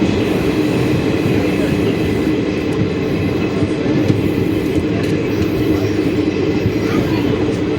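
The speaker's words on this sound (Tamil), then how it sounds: "புதுக்கோட்டை ரயில் நிலையத்துக்குள்ளே நம்ம என்ட்ரு ஆகிட்டோம் பாருங்கள்." Train 56831 rolls into Pudukkottai railway station with a loud, steady rumble and rattle of carriages, heard from on board, with faint clicks over a constant low roar.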